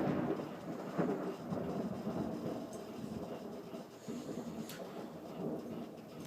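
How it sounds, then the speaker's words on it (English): Thunder from a storm directly overhead rolls as deep, continuous rumbling with heavier swells, heard from indoors alongside faint rain, without voices. "The storm's right on top of me."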